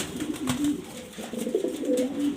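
A male pigeon coos steadily nearby, its low throaty burbling repeating in soft waves over a light background hiss.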